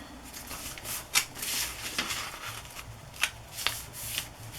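A paper book page folded by hand into thirds, with soft crisp creasing rustles and a few sharp snaps of paper, close and quiet against a faint background hum.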